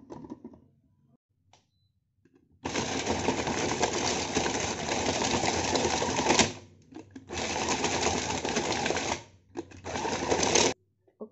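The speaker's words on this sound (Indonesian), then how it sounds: "ini penggiling daging saya nggak terlalu kuat" A home meat grinder that struggles a little churns a meatball mixture with ice in three loud, buzzing motor bursts separated by short pauses, with a few quiet clicks before it starts.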